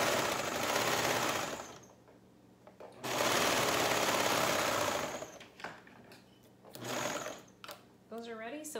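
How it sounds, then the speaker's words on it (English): Two runs of a sewing machine stitching shirt pieces together across a V, a steady close mechanical hum, then quieter handling noises and a voice speaking briefly near the end. "you're going to sew that like across the V"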